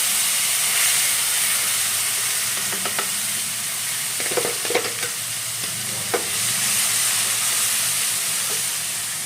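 Gravy is poured into hot oil spiced with turmeric, cinnamon, cloves and curry leaves, setting off a loud, steady sizzling hiss with a few spoon scrapes and stirring knocks in the middle.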